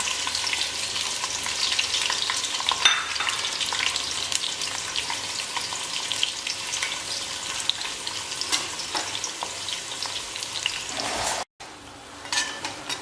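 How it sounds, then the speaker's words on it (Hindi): Onions sizzle steadily in hot ghee for a mutton korma and are stirred now and then. The frying is close and continuous until a brief cutout near the end, then it resumes. "घी हमारा गर्म हो चुका है और इसमें आहिस्ते सा धीरे से हम ये प्याज को छोड़ देंगे और इन सभी प्याज को हम गोल्डन ब्राउन कर लेंगे।"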